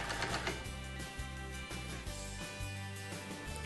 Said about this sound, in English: Now you can finish sewing down the casing on either side of the elastic.